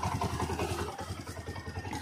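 A Bajaj Platina 110 motorcycle engine idles steadily nearby with a low, even putter and no voices.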